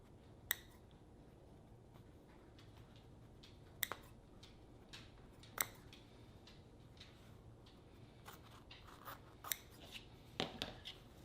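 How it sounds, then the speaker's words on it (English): Scissors snip through the first layer of quilting fabric for a pillow flower center, producing sparse, crisp little cuts spread through a quiet room, a few clustered near the end, with no talk. "For our flower center, we're going to split through the first layer of fabric"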